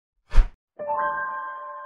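A notification bell sound effect: a brief soft thump, a short pause, then a single clear bell tone that rings on steadily and slowly fades.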